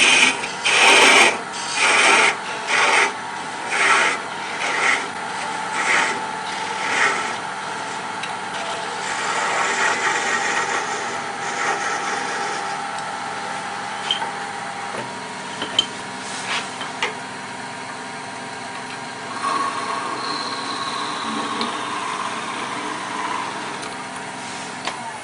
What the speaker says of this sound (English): I'm going to go ahead and part this off